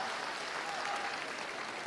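Audience applause at a Deyunshe crosstalk comedy show, a steady wash of clapping from a theatre crowd throughout, moderately loud and without talk.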